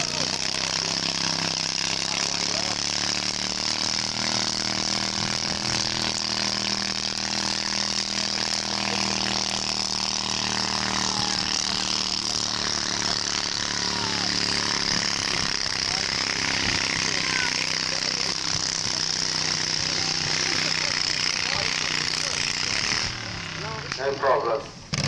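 A tractor at a steam fair tractor pull in Laughton, Kent, running with a steady, loud, continuous engine roar and rattling drone for most of the clip, easing off near the end.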